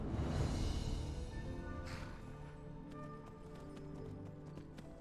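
A pig ridden as a mount in the Enderal game trots along with steady hoof clip-clops under a loud, droning outdoor ambience and music.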